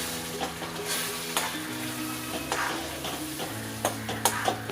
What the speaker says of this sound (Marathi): त्याला पण मी आता व्यवस्थित मिक्स करून घेते